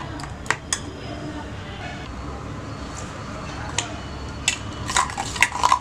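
A spoon stirs homemade grape jam in a cooking pot, making sparse metallic clinks and scrapes against the pot that grow busier toward the end, with low background noise.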